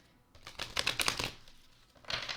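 Large, stiff tarot-style cards riffled and shuffled in bursts, quiet and close, with short pauses between runs of papery flicking.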